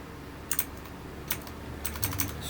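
A computer keyboard being typed on, a few quick clusters of soft key clicks with short pauses between them, quiet and close.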